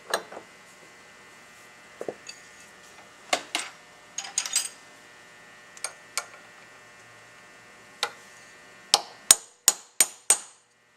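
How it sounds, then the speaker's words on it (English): A chisel is hammered through a pin on a Cadillac arm. Sharp metallic strikes sound close and irregular at first, then end in a quick burst of four or five ringing blows over a faint hum. "Just take a chisel and cut it right in through here, and it will split."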